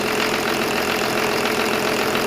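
A BMW 324 engine idles roughly and coughs a little, with swapped engine management and a direct intake kit, making a steady, close, continuous mechanical drone with slight uneven knocking throughout.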